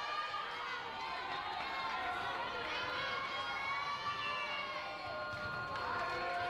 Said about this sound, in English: A little elevation out of the crowd in the gym as they're feeling a little bit of the desperation